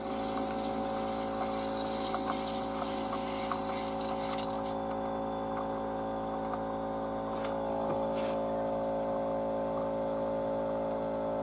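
An electric water pump pushes water, giving a continuous whirring hum with a rushing, gushing flow. The sound stays steady and close for the whole stretch.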